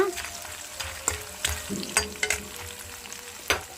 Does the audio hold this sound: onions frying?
yes